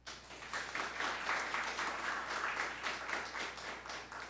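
An audience applauds at a school career event, a steady wash of clapping from many hands that rises quickly and holds, moderately distant and soft.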